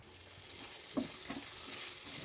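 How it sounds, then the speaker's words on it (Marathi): A spoon stirs curd and potatoes in a pan for dhaba-style dum aloo, giving a soft, close scrape with a faint sizzle and one brief knock, all quiet. "छान याला मिक्स करून घ्यायचं."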